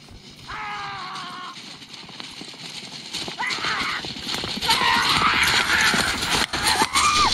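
A fast mare trots while pulling a cart, her hooves clip-clopping in a quick steady rhythm amid rattling and road noise, with several loud whinnies rising over it along the way.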